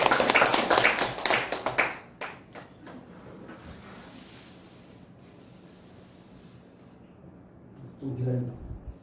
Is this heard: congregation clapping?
yes